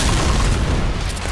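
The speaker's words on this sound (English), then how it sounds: "Throw in a pipe bomb. Pipe bomb out." A pipe bomb blows up in the zombie game Left 4 Dead 2, a loud, dense rumbling boom filling the short moment without any pause.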